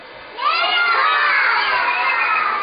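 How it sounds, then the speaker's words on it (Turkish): An audience at a stage show breaks into loud, sustained cheering and shouting for a young performer. The crowd noise rises suddenly and then holds as a dense wall of voices. "Alkışlar Batuhan için"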